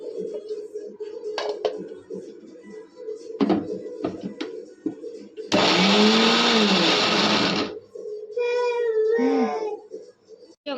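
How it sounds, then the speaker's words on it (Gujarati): A kitchen mixer grinder blends cooked tomato and onion for a paneer curry. After some clatter and brief noises, it roars in a loud, dense whir for about two seconds, then cuts off, followed by a wavering, cry-like sound. "હવે આપણે મિક્સરમાં કાઢી લેવું"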